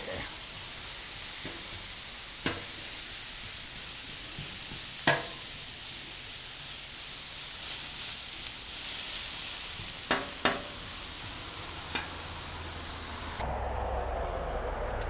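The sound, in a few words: onions sizzling on a griddle for smash burgers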